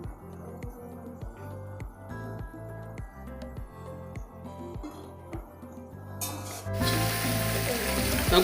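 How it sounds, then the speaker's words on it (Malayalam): Chicken pieces frying in oil for a special biryani, a rhythmic pattern of clattering and stirring over a low sizzle, then a sudden loud burst of hissing as more pieces hit the hot oil near the end. "ഒരു മീഡിയം ടൈപ്പ് ഫ്രൈ മാത്രം നമ്മൾ ചെയ്തെടുത്താൽ മതി കേട്ടോ."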